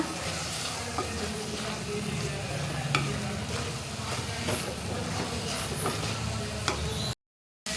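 Chicken liver fry stirred in a pan after adding cumin, coriander and turmeric powders: a steady, close sizzle with repeated scraping spoon strokes and no talk, cutting to silence just before the end.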